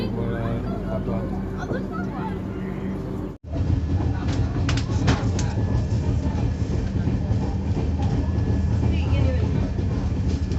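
Passenger cabin of an SF express train halted at a station in India, with a steady low rumble and hum, clanks and shuffling, and people talking throughout the carriage.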